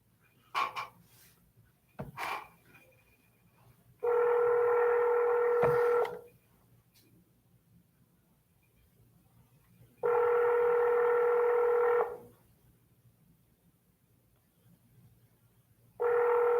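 A telephone handset during cold calling plays a steady dial tone in repeated two-second bursts separated by silence, preceded by a few short dialing beeps and clicks, heard alone and fairly quiet.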